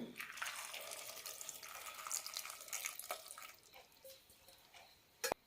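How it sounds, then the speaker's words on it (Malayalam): Water is poured into a cooking pot of cut ash gourd and peeled mango pieces, a faint trickle and splash that tapers off and ends with one sharp clink. "കഷ്ണങ്ങൾ വേവാനുള്ള വെള്ളം ഒഴിക്കാം"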